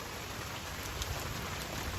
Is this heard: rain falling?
yes